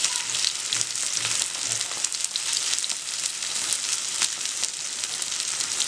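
Onion paratha sizzles steadily on a hot pan, a dense continuous frying hiss with a few soft crackles, close and alone with no talk.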